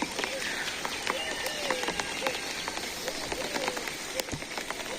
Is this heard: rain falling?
yes